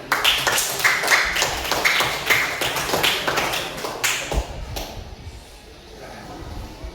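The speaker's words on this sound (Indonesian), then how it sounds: "tepuk tangan untuk kelompok 4" Students in a classroom applaud for group 4 with a dense burst of hand clapping that fades after about five seconds, leaving quieter room sound and a little talk.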